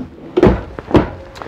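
A kitchen drawer in a 2022 Keystone Hideout 27RLSWE travel trailer shuts with two short, close wooden thunks about half a second apart, then a faint softer knock.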